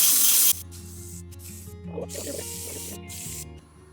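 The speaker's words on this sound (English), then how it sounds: "Then I got some 150 sandpaper here." 150-grit sandpaper rubs against a wooden candle holder spinning on a lathe, a steady hiss over the motor's low hum, starting with a brief loud burst and staying close and even.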